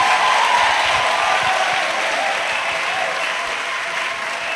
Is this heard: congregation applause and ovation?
yes